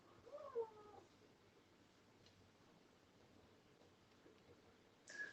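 A cat's meow rises near the start, then a quiet stretch of room noise, and a second short cat cry sounds at the very end.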